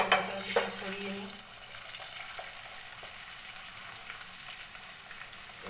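An egg fries in a hot pan for an egg-and-bread breakfast, giving a steady, close sizzle throughout, with a couple of light pan clinks near the start.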